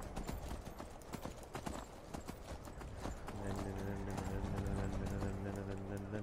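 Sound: horse galloping in the video game Skyrim

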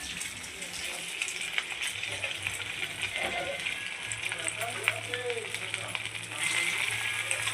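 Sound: tilapia fish dumplings (muitha) frying in hot oil in kadai

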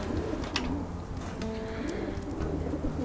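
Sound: pigeons cooing

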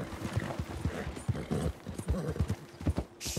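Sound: horse hooves running in a video game

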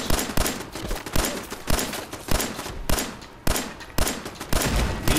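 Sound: pistol gunfire in video game Fallout 4

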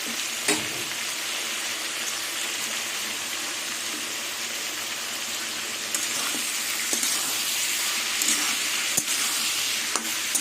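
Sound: ridge gourd and potatoes frying in a pan

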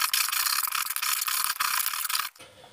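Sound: abrasive roller cleaning metal exhaust section before welding

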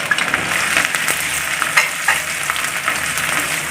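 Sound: chopped ginger and garlic frying in hot coconut oil

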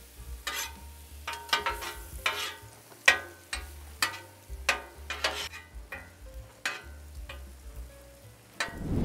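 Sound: onion and bell peppers frying in butter

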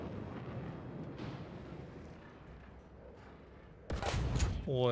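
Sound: tank cannon shot in a video game

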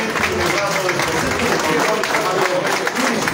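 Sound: audience applause at an inauguration ribbon cutting

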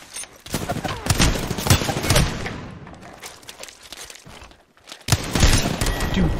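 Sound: player shooting repeatedly at an enemy in a video game

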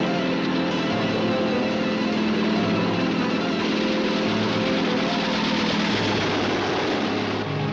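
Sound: helicopter flying in cartoon

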